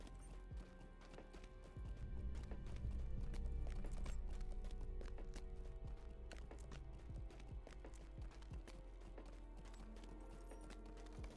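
Goat mount hooves clip-clop steadily in The Lord of the Rings Online, a dense run of sharp hoof strikes over a low ambient game bed, moderately loud and continuous throughout.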